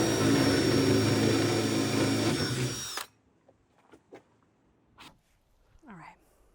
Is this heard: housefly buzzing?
no